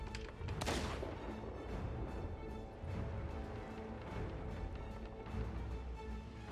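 Cannon fire in a video game from a black cannon with silver plating on a red wooden base, one gun booming near the start amid a dense, continuous battle rumble, with no talk.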